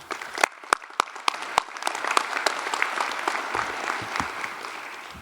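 An audience at a South Dakota Mines fall commencement breaks into applause to welcome a regent to the stage, opening with a few sharp separate claps that swell into sustained, dense clapping from the crowd.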